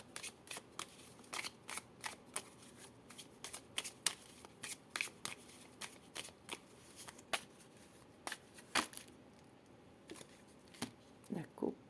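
Lenormand cards being shuffled and cut, rapid soft riffling flicks repeating steadily throughout, close and quiet with faint background noise.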